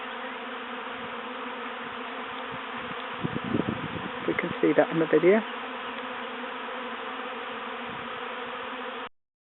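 A swarm of bees being caught from a Top Bar hive outdoors drones in a constant, dense buzz throughout, while a person speaks briefly partway through.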